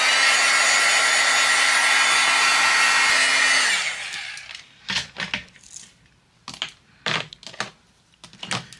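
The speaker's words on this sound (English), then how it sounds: "I'm gonna go ahead and melt the embossing powder that's on here" Heat embossing tool blowing hot air steadily over embossing powder on paper card hearts, a loud continuous whoosh with a faint whine that cuts off after about four seconds, followed by light clicks and taps of handling.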